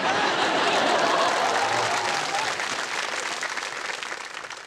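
Studio audience clapping on the KBC game show, a full, even burst of applause that slowly fades, with light chuckles and faint voices mixed in.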